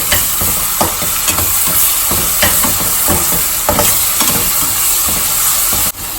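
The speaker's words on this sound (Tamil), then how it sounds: "நான் இப்போ இதோட இஞ்சி பூண்டு பேஸ்ட் போட்டுக்கிறேன். நல்லா வதக்கிக்கலாம்" Ginger garlic paste sizzles loudly with onions in a pan for Trichy mutton biryani, a close, continuous hiss broken by repeated scraping stirs at an uneven rhythm.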